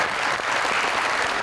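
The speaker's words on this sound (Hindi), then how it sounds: "तालियां।" Steady, dense applause from a studio audience at a televised music performance shoot, loud and continuous throughout with no voices over it.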